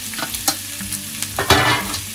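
Soft Spitzkohl cabbage is stir-fried over high heat for yakisoba, giving a loud close sizzle with quick scraping and tossing strokes, the strongest burst about two-thirds through, with no voices.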